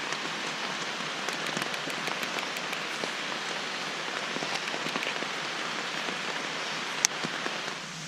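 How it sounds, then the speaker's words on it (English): Steady rain falling on a tent during an overnight camp, a constant close hiss of drops with scattered sharper taps and one louder pop near the end. "It just decided to start raining."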